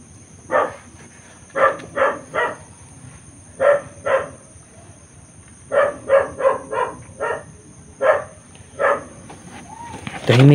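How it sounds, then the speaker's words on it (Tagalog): A dog barks repeatedly near a house, about fifteen sharp, clear barks spaced irregularly in short bursts and pairs over quiet background hiss. "Yung aso palaging tahol na tahol yung aso."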